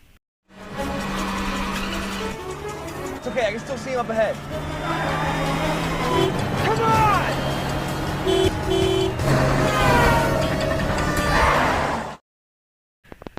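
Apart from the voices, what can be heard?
car chase, speeding car with skidding tires, from a film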